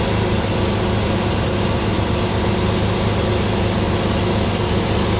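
A small engine with the choke on runs steady at about 2500 rpm, a loud, unbroken drone heard up close and alone, with no pauses or change in pitch.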